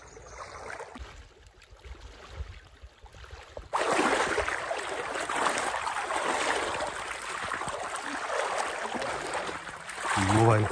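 Water of the Rapti river in Chitwan National Park rushes and swirls close by during a crossing, a quieter stretch giving way to a louder continuous wash, with brief voices early on.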